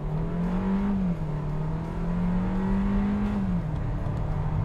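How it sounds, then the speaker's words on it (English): A 2024 Kia Seltos turbocharged engine accelerating in sport mode, a steady cabin-heard drone that rises and falls slightly in pitch as it shifts, smooth and continuous with no talking. "Let me go ahead and put it into sport mode. I'll give it some gas."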